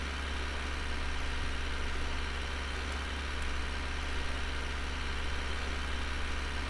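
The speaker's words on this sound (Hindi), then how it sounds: "अभी स्पीड पूरी पकड़ ली ट्रैक्टर हमारे ने।" A Massey Ferguson 241 tractor engine runs at full speed while pulling a fully loaded 32-foot trolley, a constant loud diesel drone with steady low throb and no pauses.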